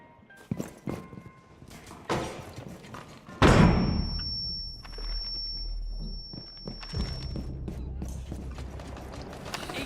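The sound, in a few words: concussive grenades bouncing in Rainbow Six Siege video game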